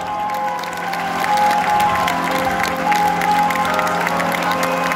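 An audience at a water-ski stunt show in Holiday Park applauds, a broad, sustained wash of clapping from a crowd heard at a distance, with some faint voices mixed underneath.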